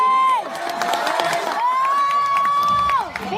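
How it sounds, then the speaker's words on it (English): A movie theater audience erupts in loud cheering and shouting, a packed room of overlapping voices swelling and holding for a few seconds before easing off. "I just got out of this movie and people are clapping for like the craziest things"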